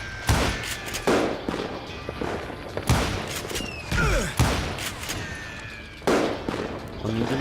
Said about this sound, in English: Он недалеко стреляет, я так понимаю.